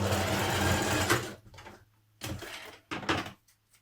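A sewing machine stitches a Simplicity 8218 jacket with a folded-back edge, one long close run followed by two short bursts separated by brief pauses.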